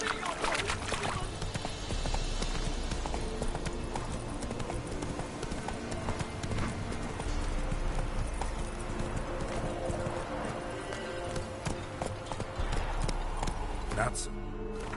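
The horse Roach trots in a video game, with steady clip-clopping hooves under continuous game sound and someone talking.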